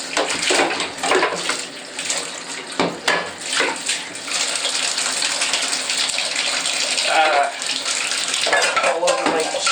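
Tap water gushes into a bathtub as dishes are washed by hand, with uneven bursts of splashing and occasional clatter of crockery close by, continuous throughout.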